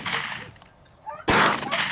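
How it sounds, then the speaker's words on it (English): Distant hunters' gunshots aimed at wild boar across open fields: a muffled crack fades out, then after a quiet pause a much sharper, louder report bursts in and lingers as a rolling echo. "Shots from a distance wounded it, but not enough to bring it down."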